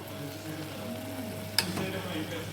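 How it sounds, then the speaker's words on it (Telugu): Fresh herbal leaves and flowers frying in oil for homemade hair oil, a low steady sizzle with a brief stirring clatter partway through, close by. "ఇంకొక 2 నిమిషాలు వేగనిద్దామండి."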